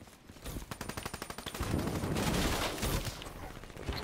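Rapid turret gunfire in a video game, a fast run of loud repeated shots that swells into a dense sustained burst, heard alone with no talking.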